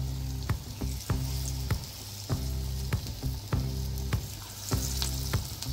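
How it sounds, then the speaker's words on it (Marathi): Moong dal fritters (bhaji) deep-frying in hot oil over a medium gas flame: a steady loud sizzle broken by sharp crackling bursts every half second or so, with no voices. "मीडियम गॅसवर हे भजी तळायचे आहेत आपल्याला।"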